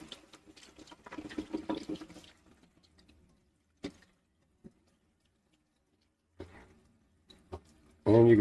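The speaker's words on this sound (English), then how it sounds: "let's first thing we're going to do is rinse this off" Running tap water splashes over a brined venison ham being rinsed, in scattered short bursts between quiet gaps, ending in a loud, steady gush of flow.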